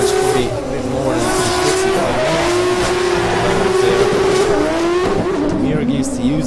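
A drift car powers through the final corner of an OIDC 2024 competition round, engine roaring steadily with a shifting pitch and tire squeal mixed in, loud and continuous under a commentator's voice.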